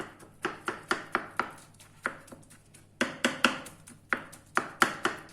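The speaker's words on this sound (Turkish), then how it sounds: "İkisini de bu şekilde ince ince doğrayalım." Rapid, crisp knife chops finely dicing eggplant on a cutting board, quick bursts of strokes with brief pauses between, close and clear with no talking.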